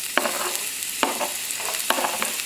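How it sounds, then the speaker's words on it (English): Red onions frying in hot oil for a creamy tomato pasta, a constant sizzle punctuated by three spatula stirs roughly a second apart, close and moderately loud. "it should be hot right now, so I'm just gonna add in the red onions carefully"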